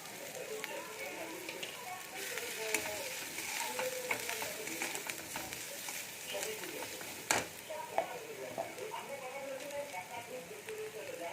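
Ground cumin and coriander hit hot oil with already-fried ginger and garlic while making a chicken kofta curry masala, giving a steady close sizzle with a few sharp spatula clicks throughout.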